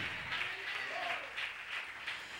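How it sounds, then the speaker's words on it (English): A church congregation claps hands for the Lord during a sermon, a steady wash of many hands clapping throughout, fairly loud and continuous. "Give the Lord a hand clap."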